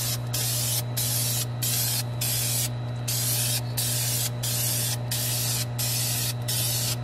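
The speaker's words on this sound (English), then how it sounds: "So we're going to start again with our spray out." Spray gun applying a coat to printable inkjet vinyl decals, a loud, close hiss in regular short bursts roughly every half second over a steady electrical hum, with no talking.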